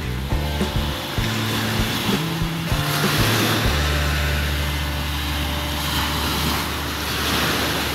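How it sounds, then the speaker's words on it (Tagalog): Ocean surf rushes continuously on Alona Beach, with wind buffeting the microphone, loud and close, with some low tones at the start. "Sarap pakinggan ng alon."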